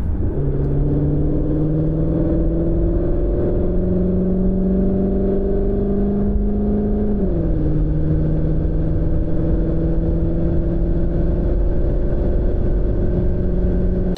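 A CUPRA Formentor VZ eHybrid accelerates hard on the Autobahn, its engine droning loud and close with steadily rising pitch. The note dips briefly at a gear change partway through, then climbs again, with no voices.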